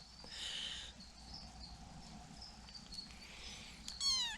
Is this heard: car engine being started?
no